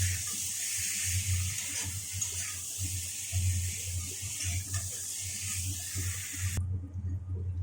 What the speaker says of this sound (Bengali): সর্ষে বাটা জলটা দিয়ে দিলাম